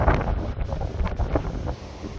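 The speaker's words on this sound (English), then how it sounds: "Windy but lovely." Strong wind buffeting the microphone on coastal sand dunes at Ballinowar after a sea swim, a loud continuous low roar with gusty swells and no voices.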